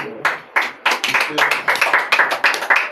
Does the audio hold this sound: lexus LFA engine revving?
no